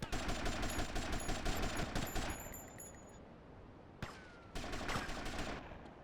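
Rapid automatic gunfire from the game Shine O' Vice rattles in a dense burst, breaks off, then resumes after a sharp single shot, sounding fairly quiet overall with no talking.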